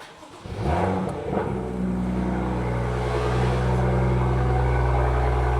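A BMW M2 with an M Performance exhaust, tips removed, rumbles loudly and revs up, settling into a deep, raspy, droning exhaust note that holds steady.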